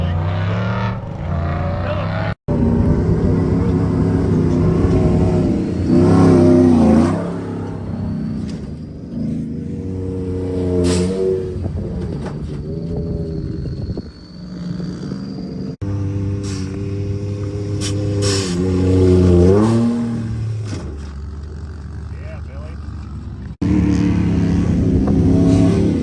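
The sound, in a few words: truck engine revving on sand dunes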